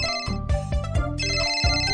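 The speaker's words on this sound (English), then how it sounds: "The phone is ringing!" A phone rings in a cartoonish Baby Panda firefighting video game, a bright repeating electronic ringtone playing continuously and alone.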